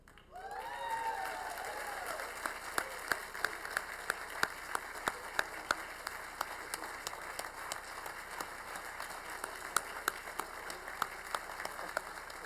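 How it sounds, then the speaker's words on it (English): Applause for the winner of the 2016 Muskie Tank Challenge rises quickly and carries on as steady, moderately distant clapping in a large room, with sharp individual claps standing out. "So one more round of applause for Mitchell"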